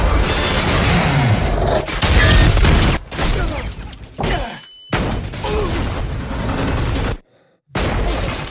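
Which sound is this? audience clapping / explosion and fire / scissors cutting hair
explosion and fire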